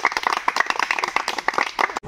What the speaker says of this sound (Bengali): সাবাস, হাততালি সবাই।